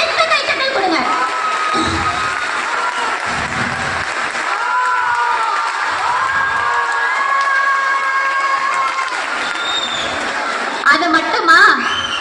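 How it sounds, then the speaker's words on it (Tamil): Hall audience in Chennai claps and cheers loudly, with shouts and whoops rising over sustained applause throughout. "பலத்த கைத்தட்டல் கொடுங்க."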